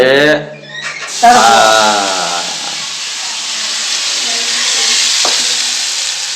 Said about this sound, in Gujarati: કઢીનો હવે વઘાર થાય છે